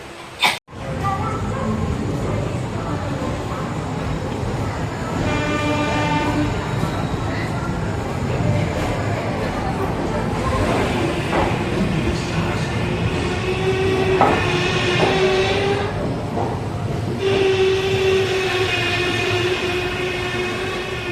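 A passenger train hauled by a WAP 7 electric locomotive rumbles out with a steady, loud rolling roar. A horn-like tone and squealing wheel tones rise through it, and a voice is heard faintly at times.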